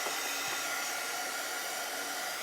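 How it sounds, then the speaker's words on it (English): Heat gun blowing steadily on painted wooden gnome hanger pieces, a constant loud whooshing hiss close to the mic, unbroken for the whole stretch with no voices. "let me throw the heat gun on these a minute."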